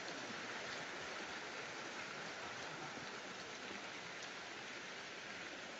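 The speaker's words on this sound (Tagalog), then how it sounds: "Parang naglalag na sa ulan ah." Steady rain falls outdoors in an even, continuous hiss with no pauses, moderately loud and without voices over it.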